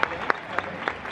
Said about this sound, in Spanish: Mario García, fuerte aplauso.